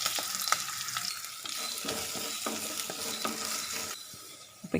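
Chopped onion sizzles and crackles steadily in hot oil, with occasional scrapes of a spoon stirring the pan close by.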